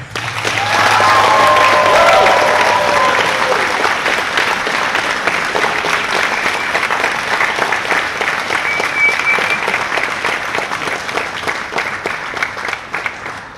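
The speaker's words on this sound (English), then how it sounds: "Please give them a big round of applause." Sustained audience applause at an underwater rugby championship prize ceremony, the Junior Nordic Championship 2022; dense, steady clapping from a large crowd, loud and continuous throughout, with a few faint voices and whistles mixed in.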